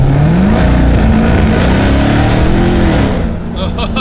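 A car fitted with a Corsa aftermarket exhaust revs hard and loud up close, its engine note climbing and holding under the roar, with voices mixed into the din and the revving easing near the end.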